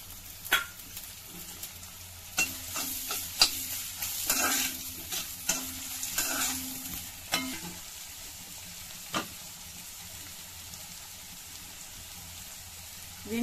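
Onions and mushrooms fry in oil in a pan for mushroom gravy, giving a soft steady sizzle broken by several scraping stirs, quiet and close with no talking.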